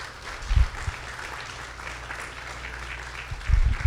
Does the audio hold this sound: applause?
yes